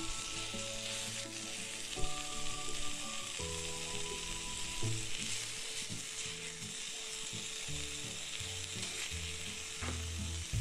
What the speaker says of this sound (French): Alors on va bien sûr faire revenir la viande hachée